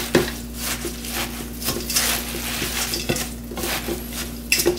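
Pepper leaves being tossed with dark soy sauce in a bowl, a steady run of close clinks, scrapes and wet rustles with sharper knocks throughout, no talking.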